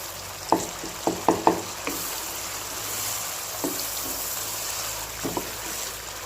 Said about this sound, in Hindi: ये मसाला भून रहा है